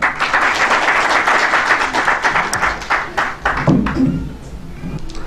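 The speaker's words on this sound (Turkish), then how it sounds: "Alkışlarınızla." An audience at a republic commemoration panel applauds as a speaker comes to the microphone, with dense sustained clapping that thins out toward the end, followed by a few low murmurs.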